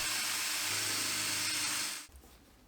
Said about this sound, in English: I'm gonna pre-drill the holes where I'm gonna put the screws